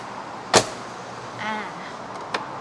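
A Mercedes G400d AMG door opening, one sharp metallic latch clack up close, then a soft mechanical whir and a second lighter click, with no talking.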